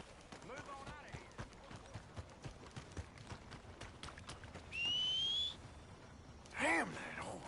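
Horse hooves clip-clopping at a steady trot in Red Dead Redemption 2, rhythmic and close, with people talking over them and a sharp whistle and a whinny-like squeal near the end.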